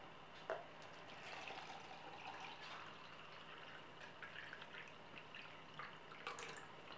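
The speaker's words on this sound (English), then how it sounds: "lukewarm water from the tap," Lukewarm tap water runs steadily while an egg tub for royal python eggs is being filled, a faint continuous hiss with a few small drips and clinks near the start and end.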